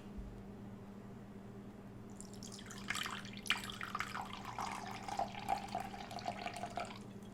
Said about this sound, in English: We'll pour 4 ounces of red wine vinegar.